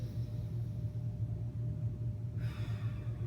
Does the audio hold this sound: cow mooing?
no